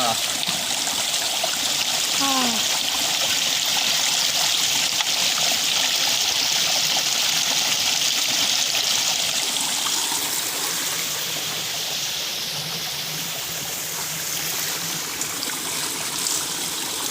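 Steady rushing of a stream flowing over and under rocks at Kakkadampoyil near Nilambur, Kerala, continuous and close, with a brief faint chirp early on.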